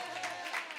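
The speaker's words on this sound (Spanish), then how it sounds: "Aplauso, amém." Applause during a church service, a short burst of steady clapping from the congregation at moderate level, with a faint voice underneath.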